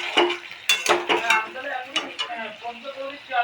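Doi chicken, chicken cooked in yogurt, gets stirred in a pan with a spoon, giving repeated scraping and clattering strokes over a steady sizzle. The stirring is loud and close, and the pan keeps sizzling softly after it.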